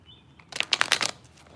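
A quick riffle of tarot cards being shuffled, a brief flurry of soft rapid flicks, close by and alone.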